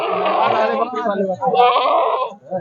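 Goat bleating at a Punjabi village fair, wavering and nasal, close by and fairly loud, with a second bleat after a brief break and a short sound at the end.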